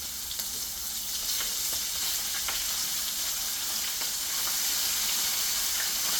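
Butter sizzles with a steak in a hot pan, a steady close hiss and crackle with faint pops throughout, growing slightly louder toward the end.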